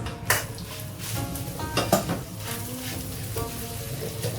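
Cooked rice stir-fried in a pan with curry, shrimp and pineapple: a steady sizzle of frying with a few sharp metallic clanks and scrapes of a utensil against the pan, no talking.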